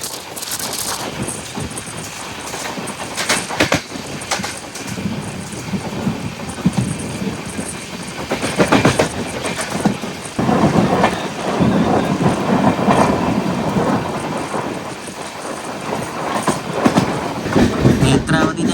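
Netravati Express sleeper class train rolling along the Konkan Railway, loud continuous rumble and clatter of the carriage with rattling bursts and swelling roars from the tracks, steady throughout.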